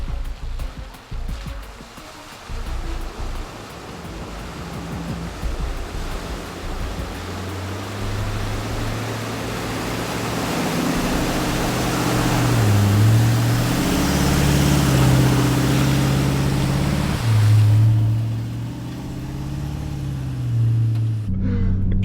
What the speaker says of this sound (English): how cool is this, driving through a river with the freaking van on